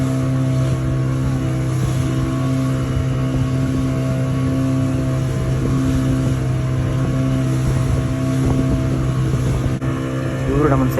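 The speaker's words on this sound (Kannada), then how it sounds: "ಬೋಟ್ ಹತ್ಕೊಂಡು ಹೊರಟ್ವಿ" Motorboat carrying passengers, a loud steady engine drone with a constant hum and wind rushing over the microphone, running unbroken throughout.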